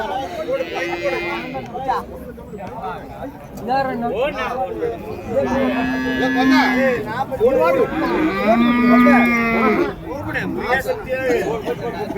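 At the Uthangarai cattle market in Tamil Nadu, native bullocks let out several long, resonant moos at intervals, close by, while people talk throughout against a background of crowd chatter.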